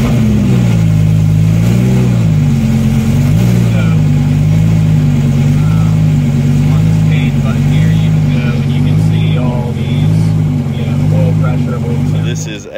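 Lamborghini Super Trofeo race car engine running on a cold start, a loud close steady drone with a brief dip and rise in revs, then settling to an even idle-like hum, a voice briefly audible over it.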